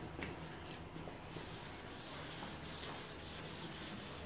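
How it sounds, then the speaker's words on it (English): Wool pad scrubbing the wet wooden surface of an old coffee table along the grain, a steady close rubbing texture that continues without pause, with no talk. "So you always scrub while it's wet and always in the direction of the grain."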